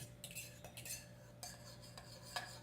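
Metal utensil stirring scrambled eggs with parmesan cheese in a bowl, a run of quiet scrapes and clinks at an uneven rhythm, close up over a steady low hum, with no speech.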